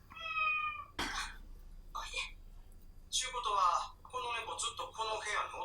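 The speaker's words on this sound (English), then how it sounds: "Oh, the cat." A cat meows in a clear drawn-out cry at the start, followed by people talking and reacting over a faint background.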